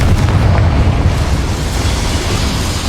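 A Confringo fire spell going off inside a mine in the Hogwarts Legacy video game, heard as a loud, sustained rumbling blast with continuous heavy low roar and no speech.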